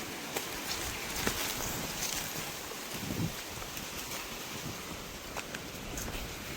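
Steady broadband wind roaring across an open outdoor space in Mukamalai, Sri Lanka, with gusty rushes and some buffeting against the microphone.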